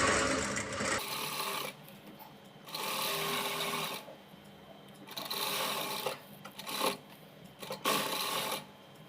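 Sewing machine stitching around a garment neckline, a close, steady whirring run in several bursts with short pauses between them.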